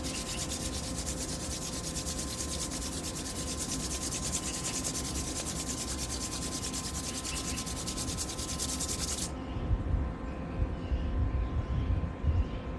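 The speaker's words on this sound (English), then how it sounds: "so rub your hands together" Hands rubbing together in a loud, steady, close friction hiss for about nine seconds, after which it stops and leaves a quieter room with soft low thumps.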